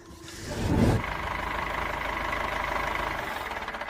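A heavy machine's diesel engine, driven by an old woman, swells in loudness and then settles into a steady, throbbing low idle rumble close by, with no talk.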